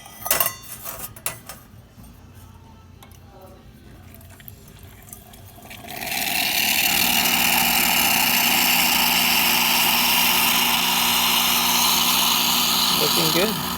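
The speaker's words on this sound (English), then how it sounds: "a little hot water action as well." Hot water dispensing from a Quick Mill Anita espresso machine, a few clinks and handling noises first, then a loud steady rushing flow with a low pump hum that holds to the end.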